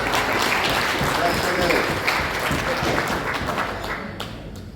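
Guests at a gala dinner and awards banquet clap together in a sustained burst that tapers off toward the end, fairly loud and close.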